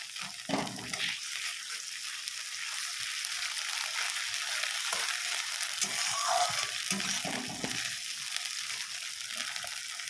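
Onions with ginger garlic paste fry in a pan, giving a continuous soft hiss and crackle with an occasional faint clink of a utensil, close and fairly quiet.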